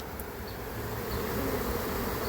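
Honey bees from a collected swarm fan at the entrance of a hive box, making a steady, dense buzzing hum that holds evenly throughout with no voices.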